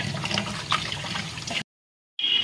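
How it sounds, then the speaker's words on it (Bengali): Raw mutton being washed under running tap water in a home kitchen, a steady splashing stream for about a second and a half, then a brief silence before the water starts again. "মাটনটা ভালো করে ধুচ্ছি, বেছে নিয়েছে, নিয়ে ধুচ্ছি।"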